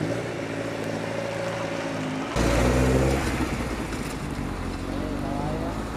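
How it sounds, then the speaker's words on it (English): An old Alfa Romeo rally car on a winter rally stage drives past, its engine note rising into a loud, close surge midway before easing off into a steady drone. "Nice looking Alfa Romeo there. It's one of the cars you can certainly hear coming."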